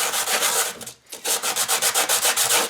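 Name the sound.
sanding model roof edge with coarse sandpaper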